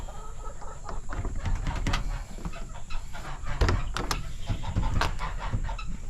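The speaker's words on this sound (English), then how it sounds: "Since the chickens are such a nuisance while trying to milk," Chickens cluck and squawk close by in a farm milking area, with repeated irregular calls over a constant background hum and scattered rustling.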